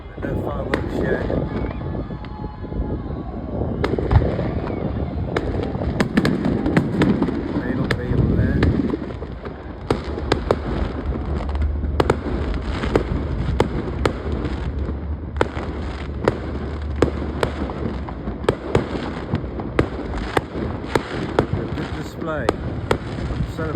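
Fireworks over Grenada crackle and pop in rapid sharp bursts, heard from a boat at sea over constant wind rumble and engine hum, with a voice speaking now and then.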